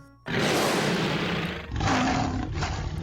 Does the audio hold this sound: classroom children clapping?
no